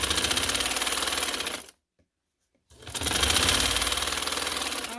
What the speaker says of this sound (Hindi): ये देखिए, इसके ऊपर रख के शलवार की तरफ रख के मैं सिलाई लगा रही हूँ।